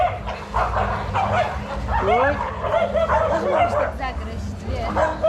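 A crowd of dogs barks and yips on a street in Iquitos, Peru, steady overlapping barking with people chattering throughout.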